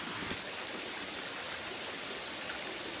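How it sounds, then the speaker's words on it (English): Waterfall along the Timber Trail in New Zealand, a constant broadband rush of falling water heard steadily and evenly, fairly soft and unbroken with no voices. "Oh, look at a pretty waterfall."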